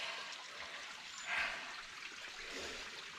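Creek water trickles and gurgles softly and steadily, with a faint splash partway through.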